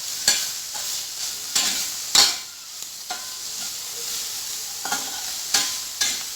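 Salted meat is stirred in a hot pan, with repeated scraping strokes and spoon knocks cutting through a steady background sizzle, close and fairly loud, with no voices.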